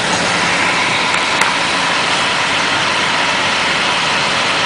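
PC cooling fans on a Xpert Glowfall system ramped up under a stress test, a steady, loud, broadband whoosh that holds level throughout with no voices.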